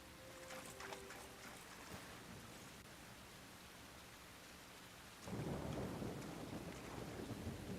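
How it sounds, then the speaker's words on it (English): Continuous rain in Unicorn Overlord, a soft steady patter that swells into a heavier, fuller downpour partway through, with distant rumbling underneath. "I love the rain"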